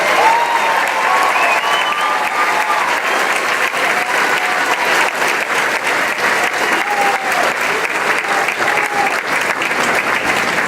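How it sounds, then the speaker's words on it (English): Sustained, loud applause from a large crowd at a high school graduation ceremony, steady clapping filling the hall without pause for about ten seconds, no voices standing out. "And a round of applause for this major graduate."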